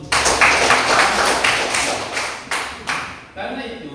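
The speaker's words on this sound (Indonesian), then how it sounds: "Oke, kita berikan aplaus." A small group claps in a classroom lesson, a brief burst of close, sharp hand claps that fades out after a few seconds.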